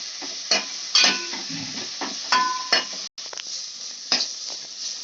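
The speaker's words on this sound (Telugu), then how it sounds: "ఉల్లిగడ్డలు ఇవన్నీ వేయించుకోవాలి మంచిగా." Onions, coriander and mint being fried and stirred in a pan, with a soft sizzle beneath repeated scraping strokes and light clinks of a spoon against metal, close by.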